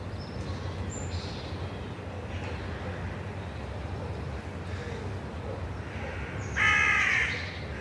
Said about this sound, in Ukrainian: Ну і ворони, а як без них.